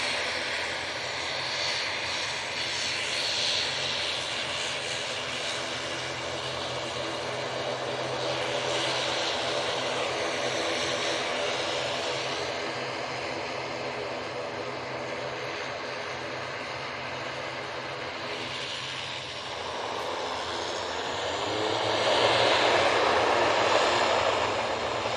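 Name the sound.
Aer Lingus propeller airliner engines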